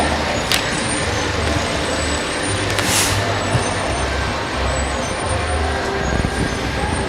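A Southern FS truck decorated with lights rolls past in a small-town nighttime holiday parade, its engine rumble steady and fairly loud amid crowd and street noise, with an announcer faintly talking.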